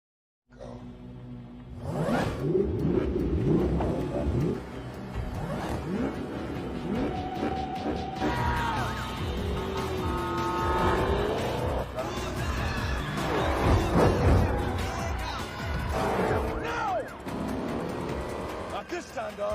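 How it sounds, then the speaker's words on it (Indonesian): Police cars racing through streets in a Fast and Furious 5 chase scene: engines rev and whoosh past in repeated surges, with screeching and clattering action effects, and voices speak over the din. "Dom, Brian, Han, dan Roman pun balapan dengan mobil polisi tersebut"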